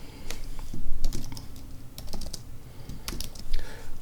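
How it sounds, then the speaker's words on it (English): Close, brisk keystrokes tapped on a computer keyboard in uneven bursts, with a few louder key hits and no voice. "So let's go ahead and type that in."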